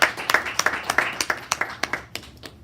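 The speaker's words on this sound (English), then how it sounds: "let's give Alvin another round of applause" A small audience at a public speaking school claps for a speaker, a close, rhythmic run of distinct hand claps that fades out after a couple of seconds.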